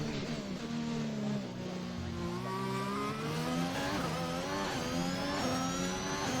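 Formula 1 cars race in the F1 2021 video game at the Belgian circuit, their high engines whining and climbing in pitch as several cars accelerate together through the opening lap.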